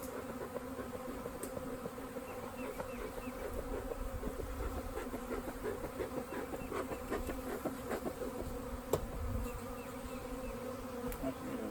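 Honeybees buzzing around a beehive, a continuous dense hum of many insects close by, steady and fairly soft throughout, with occasional faint clicks.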